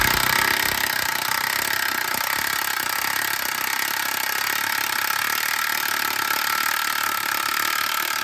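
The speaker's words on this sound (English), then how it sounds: "we're going to open the jack up, and then that's going to push the knuckle down" Hydraulic jack forcing a VW or Audi strut's suspension knuckle downward, giving a steady loud mechanical grinding drone that holds at an even level throughout, with no voices.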